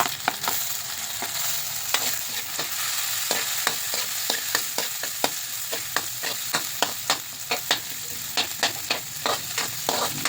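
Garlic and onion sauté in a pan for a quick breakfast dish, with a steady broadband sizzle and frequent sharp scrapes and clicks of stirring running throughout, close and fairly loud with no voices.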